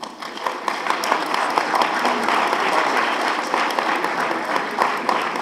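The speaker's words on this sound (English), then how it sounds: "Can you have a round of applause for Birchland?" Audience applause at a leadership forum, a steady crowd of clapping hands at a fairly loud level throughout, with no speech over it.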